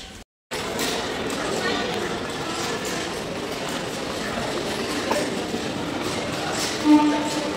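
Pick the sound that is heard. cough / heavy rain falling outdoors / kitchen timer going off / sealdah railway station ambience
sealdah railway station ambience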